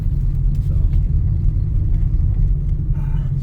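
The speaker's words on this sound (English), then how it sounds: "You can hear it building the RPMs" Car engine with a cheap aftermarket exhaust rumbling loud and deep, a steady low growl close by with slight swells as revs build.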